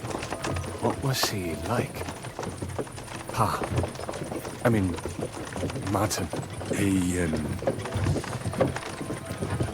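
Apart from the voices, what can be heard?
horses trotting in the video game Kingdom Come: Deliverance II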